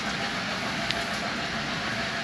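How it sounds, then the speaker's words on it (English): A small model train rumbles across the viaduct of a hand-cranked nickelodeon display at Kinzua Bridge State Park, a steady, close, mechanical clatter and whir that runs evenly with no talking. "There comes a train back across it."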